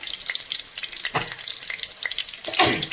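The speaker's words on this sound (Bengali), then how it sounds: "আলুটা ভেজে নিচ্ছি" Potatoes frying in a pan for a vegetarian dish, a crackling sizzle close by with scattered pops and stirring scrapes, growing louder toward the end.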